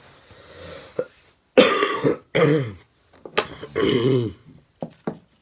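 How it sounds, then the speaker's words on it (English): A few throaty coughs and harsh throat-clearing bursts, close up, separated by short pauses. "Trying not to cough on camera."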